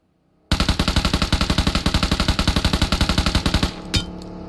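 In the mobile game PUBG Mobile, a loud, close burst of rapid automatic gunfire runs steadily for about three seconds after a brief quiet start, then stops and a single shot follows.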